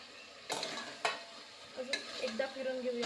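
Mixed vegetables being stirred with kasuri methi in a pan: a few sharp scraping strokes of a spoon against metal over a faint low sizzle, close and quiet.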